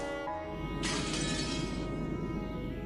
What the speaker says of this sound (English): The teacup on the table smashed on the floor, making a violent sound.